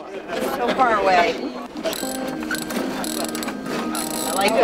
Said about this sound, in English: I like that ratchet noise.